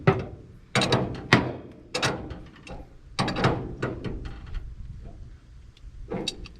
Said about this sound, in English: Let's go ahead and tighten this big boy on. Now we don't need to go too crazy because we got a foot of leverage here with the big crescent wrench.